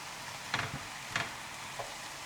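A large batch of mixture stirred in a pan gives three faint scraping strokes, about half a second apart, over a soft steady hiss, with no voices.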